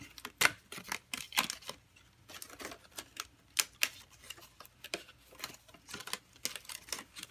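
Die-cut paper pieces are popped out of a card-kit sheet, giving irregular sharp snaps and crackles of paper at close range, some spaced out and some in quick clusters, with no voice over them.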